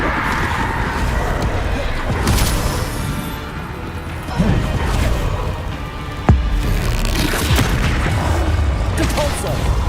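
Heavy crashing impacts from the Descendo spell in the Hogwarts Legacy video game, with several loud smashes and rumbling booms over dense, noisy combat sound and a voice shouting.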